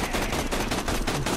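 Rapid automatic gunfire from Borderlands 2 rattles without a break, loud and dense, each shot pulsing quickly into the next with no voices over it.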